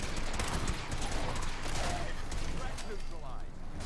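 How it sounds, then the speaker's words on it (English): Fallout 4 gunfight gunfire in a fast-paced battle, with dense, loud bursts of shots piled together and a chaotic wash of combat noise. "This is the kind of like fast-paced gunfight that you didn't really have in any of the other games"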